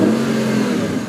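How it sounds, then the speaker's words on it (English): Audi V8 engine of 430 brake horsepower revving at a supercar and classic car show, a loud sustained throaty drone held steady over about a second, no voices. "It's only the V8, the original engine we put in the car."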